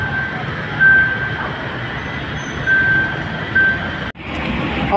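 An LRT light rail train at a station near Balintawak public market rumbles with a steady low roar and intermittent high tonal beeps, fairly loud and close, with a brief cutoff near the end.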